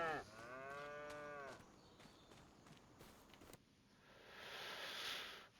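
Beef cattle in a farming survival video game give a long, loud, wavering moo, then hoof-like footsteps and soft ambient noise follow, with a brighter hiss swelling near the end.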